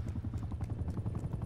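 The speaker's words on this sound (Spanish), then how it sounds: "No, caga todo el helicóptero" A helicopter in Black Ops Cold War thumps with rapid, even rotor pulses, loud and close, and runs steadily with no voices.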